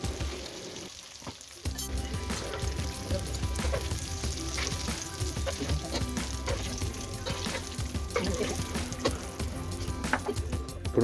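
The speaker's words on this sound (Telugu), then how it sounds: "ఆయిల్ హీట్ అయినాక వంకాయలు అందులో వేసేసి మంచి డార్క్ కలర్ వచ్చే వరకు ఫ్రై చేయండి." Brinjals fry in hot oil with a loud, crackling sizzle that runs continuously, broken by stirring scrapes and clinks of a utensil in the pan, close up.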